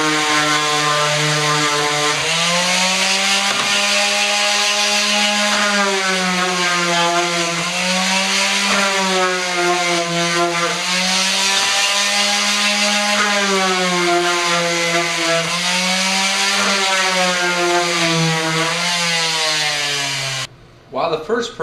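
A power sander runs continuously while wood pieces are box sanded, giving a steady, loud droning whine with a slightly wavering pitch that cuts off near the end.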